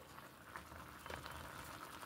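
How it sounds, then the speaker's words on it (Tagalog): Steady bubbling and gurgling of water boiling in a pot of milkfish with onions, garlic and lemongrass, a continuous soft rumble with small pops throughout. "Kumukulo."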